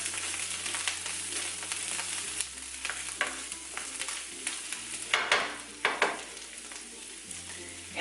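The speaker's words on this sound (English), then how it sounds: "Add a little more butter. melt on up." Butter melts and sizzles in a frying pan before eggs go in, a steady close crackling hiss with scattered pops and a few louder scraping stirs toward the end.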